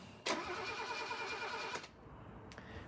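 A car engine cranks with the starter during a fuel injector test using NOID lights, a rapid rhythmic churning for about a second and a half that then stops abruptly, recorded close with a brief click afterward.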